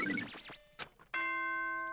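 Ding-dong chime announcement in the game Danganronpa: a swooping electronic jingle followed by a sustained bright bell tone, loud and alone.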